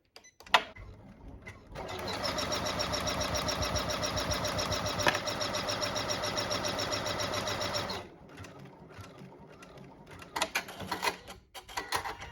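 An embroidery machine stitches out a vinyl card holder, a steady loud mechanical whir with rapid needle rhythm running about six seconds, preceded and followed by handling clatter.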